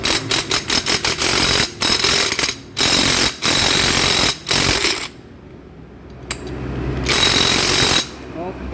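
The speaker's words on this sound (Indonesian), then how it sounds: "Sekarang kita akan kencengke dari baut ini" A bolt on a Honda CB motorcycle clutch being tightened, with loud, rattling bursts of a power impact tool in repeated short pulses, then a longer burst after a quiet gap.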